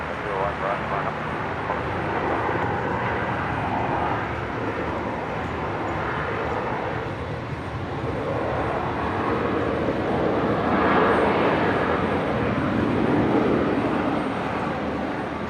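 A Qantas airliner takes off from runway 01 right at Brisbane Airport, a broad, steady engine roar that builds slightly toward the end, with radio chatter over it.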